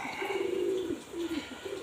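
A pigeon coos close by in two or three low, rolling phrases, the first long and the others shorter, steady over a light hiss.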